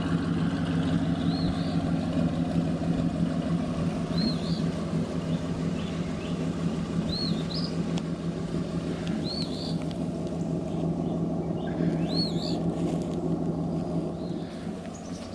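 A 2001 Mustang GT V8 with no catalytic converters or mufflers idles steadily, a loud, continuous low rumble heard from a short distance outdoors, with faint birdsong above it.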